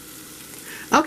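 Vegetables hit a hot roux in a pot for smothered turkey wings, a quiet background hiss then a sudden brief burst of sizzling near the end.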